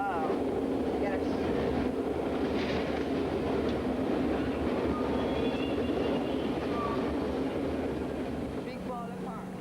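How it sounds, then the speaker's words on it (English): A moving train rumbles loudly and continuously with a rattling, clattering roar that holds steady throughout, with faint voices buried underneath. "The train is going now."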